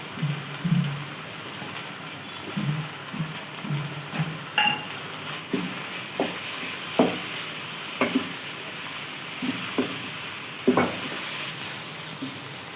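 A spoon stirs green chilli keema with fresh coriander in a hot pan, giving soft scraping scrapes and taps over a steady low sizzle.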